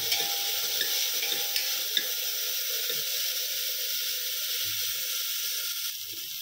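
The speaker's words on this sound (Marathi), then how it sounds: "टोमॅटो आपल्याला थोडासा मऊ होईपर्यंत भाजून घ्यायचा आहे" Finely chopped tomato fries with onion for dal khichdi, giving a steady hissing sizzle with a few soft stirring taps and a slight drop in level at the end.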